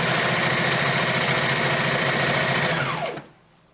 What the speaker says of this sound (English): just stitching it on without stretching